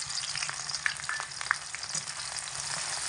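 Garlic cloves, chopped onion and slit green chillies fry in a pan with a steady, fairly quiet sizzle, a few brief crackles and stirring clicks breaking through.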